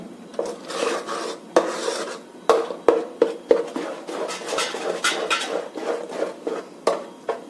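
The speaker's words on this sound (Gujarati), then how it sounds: "આ ફૂલી જાય ત્યાં સુધી એને હલાવવાનું છે" A utensil stirs oiled, salted Gujarati batter in a pot, making repeated close scraping and rubbing strokes in an uneven rhythm, with occasional light clinks against the metal.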